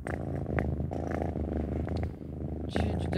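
Cat purring steadily and loudly up close while its belly is scratched, a continuous low rumble with faint rustles and brief soft sounds from the person nearby.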